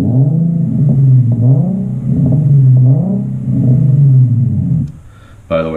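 A car's exhaust revs repeatedly in rising and falling surges, captured close up on a GoPro, deep and loud, followed by a brief pause and a sharp burst of noise at the end.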